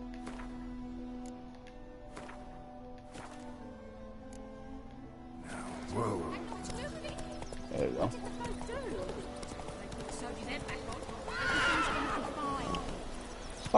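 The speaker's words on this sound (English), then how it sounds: "Fucking horse, man." A horse in the Witcher 3 video game whinnies and clip-clops, with several neighs and hoofbeats rising over quiet game ambience in the second half.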